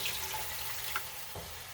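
Water poured into a pot of chili, a faint continuous splashing with a soft sizzle underneath and a couple of small clinks.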